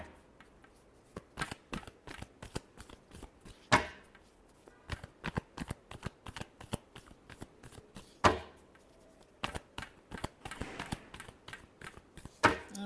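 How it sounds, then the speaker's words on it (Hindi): Tarot cards are shuffled by hand in quiet, rapid bursts of papery riffles and taps, with a few louder snaps in an uneven rhythm and no talking. "last shuffle"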